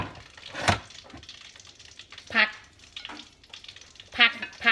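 Hot oil sizzles and crackles in a pan while frying a shrimp dish, with bursts of spitting and popping rising and falling over a quieter steady hiss.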